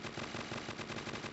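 A Gatling gun in Crossfire: Legends zombie wave mode fires a continuous, rapid rattling stream of shots, dense and steady throughout.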